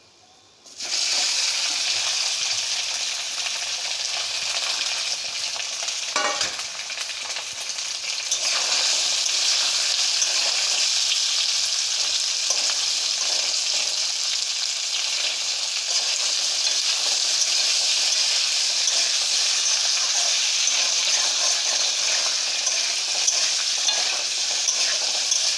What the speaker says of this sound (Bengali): এবার আমি কেটে রাখা আলুগুলো দিয়ে দিচ্ছি।